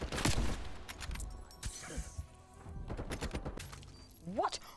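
Gunfire in a shooting video game, with a sniper rifle fired without attachments among repeated shots and other weapon sounds, busy and loud, with game effects and a voice briefly talking between them.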